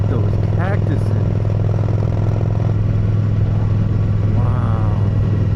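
A motorcycle hums steadily on a scenic desert road to Lake Pleasant, its engine drone and wind noise loud and constant while a rider talks over it.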